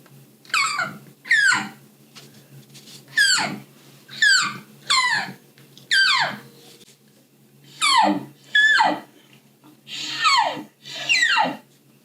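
A high-pitched elk diaphragm call blown repeatedly, about a dozen short squealing notes with pauses between them, each sliding down in pitch.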